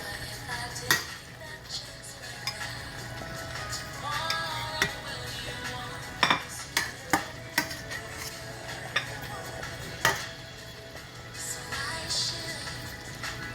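Onions going into a thick sauce in a pan while cooking a Haitian meal, heard as irregular metallic clinks and scrapes of a utensil against the pan over a low background hiss, with sharper taps clustering midway.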